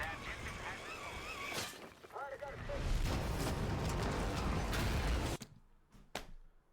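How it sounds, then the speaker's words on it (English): Explosions boom in a first-person shooter game, with deep rumbling blasts and crackling debris that swell into a long roar before cutting off abruptly, followed by a few sharp hits, while someone talks over the opening. "look at those explosion effects"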